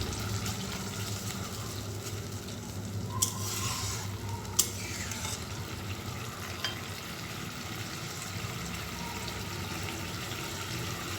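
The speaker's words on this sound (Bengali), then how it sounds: "ঝোলটা ফুটে উঠেছে।" Fish curry gravy bubbling in a pan on the stove, a continuous sizzling simmer with a couple of sharp clinks of utensil against the pan, close and steady throughout.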